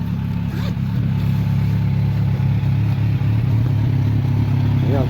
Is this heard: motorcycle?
yes